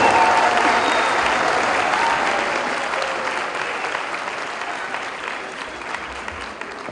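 Loud, sustained applause from a graduation audience at a UCA postgraduate ceremony in 2013, a dense wash of clapping that fills the hall and slowly tapers toward the end.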